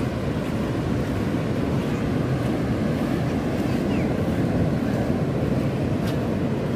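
Ocean surf at Sundak beach in Gunung Kidul, Yogyakarta, a steady broadband wash of waves mixed with wind buffeting the microphone, continuous and loud without any talking.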